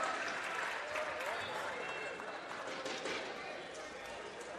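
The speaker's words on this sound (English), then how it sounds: "Okay, we'll say it was a standing ovation." A home crowd gives a standing ovation at a junior varsity high school volleyball match, a faint, sustained wash of applause and crowd noise heard under a commentator's voice.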